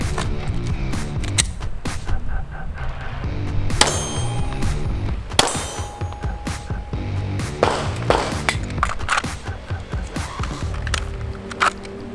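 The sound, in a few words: pistol magazine inserted and slide racked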